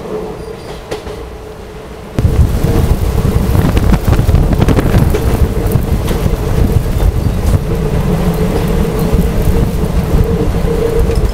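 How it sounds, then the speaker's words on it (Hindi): Loud, steady broadband roar of heavy rain beginning abruptly after a quieter stretch, heard aboard the Kanchanjunga Express train from Sealdah to Agartala, with rumbling low rattle of the moving train underneath, no talk. "गजब बारिश चालू हो गई भाई"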